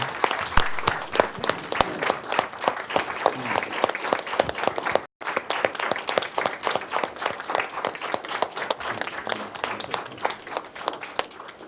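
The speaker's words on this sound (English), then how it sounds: "let's all join in and give them a round of applause" Sustained applause from people gathered at a city council meeting in Champaign, dense steady clapping with a brief break in the middle before it resumes, fairly close and loud throughout.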